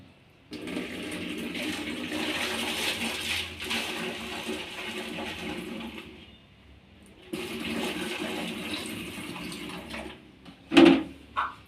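Water from a jug gushes into a plastic water can in two long, rushing pours separated by a brief pause, close and steady, ending with a short knock of the container.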